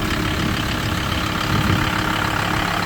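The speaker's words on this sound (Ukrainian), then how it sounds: "Двигун чисто працює" A Volkswagen LT van engine idles steadily nearby, a low continuous rumbling drone with an even, loud level and no speech.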